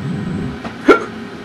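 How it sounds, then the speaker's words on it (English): A single short hiccup from a character in Rainbow Six Vegas 2, one quick sharp burst heard clearly over a faint steady game-ambience background. "Is that a hiccup?"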